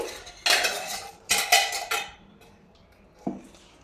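A metal wok set back down on a stove for roasting dried chillies and cumin; three sharp clanks of metal on metal, then a fainter knock, close and alone.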